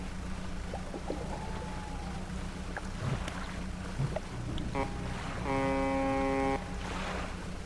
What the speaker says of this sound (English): Hear a foghorn echo.